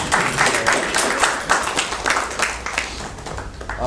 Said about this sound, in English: So warm round of applause for her leadership